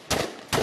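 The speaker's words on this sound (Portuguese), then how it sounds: "Na fuga, vários tiros foram disparados." Gunshots fired by bank robbers fleeing after robbing a bank branch and a credit cooperative: two sharp, loud, close bursts about half a second apart, with no talking.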